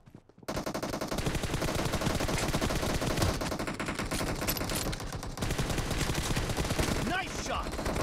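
Dense, rapid automatic gunfire from a team-based shooter video game, loud and continuous for several seconds after a brief quiet start, layered with game effects.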